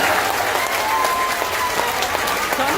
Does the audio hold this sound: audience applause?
yes